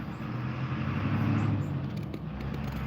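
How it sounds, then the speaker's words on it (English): Cars passing on a town street outside a home wood-carving session, a steady broadband road rumble that swells slightly as a vehicle goes by, moderately loud, with no talk. "Sorry about the noises of the cars passing."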